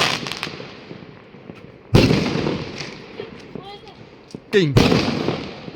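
New Year's Eve fireworks in China burst close by twice, each sharp bang trailing into a rumbling, crackling decay, with distant pops between and a person exclaiming.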